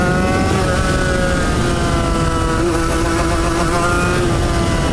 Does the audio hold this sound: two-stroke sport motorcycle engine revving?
yes